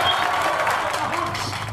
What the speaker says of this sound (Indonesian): Tepuk tangan dong buat Enung.